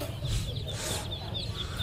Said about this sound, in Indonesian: Oh ini bebek anakan bebek sama ayam guys